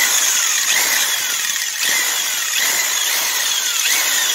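A hone works inside an engine cylinder of a 1979 Ford F150 during an engine rebuild, giving a loud, continuous high-pitched power-tool whine with faint rhythmic sweeps as the tool moves up and down the bore, alone without talk.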